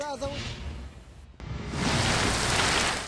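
Heavy monsoon rain in Balochistan pours down as a dense, steady hiss that swells louder after a brief dip, with a short burst of voice near the start.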